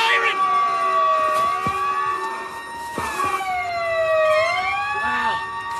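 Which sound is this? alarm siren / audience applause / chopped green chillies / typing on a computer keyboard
alarm siren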